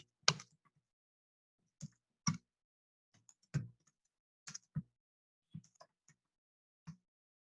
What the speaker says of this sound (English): So I type some data which is new.